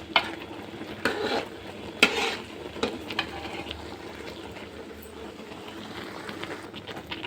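Spatula stirring thick alkova sweet in a pan, with a few scraping strokes and a low steady sizzle underneath, close and moderately quiet.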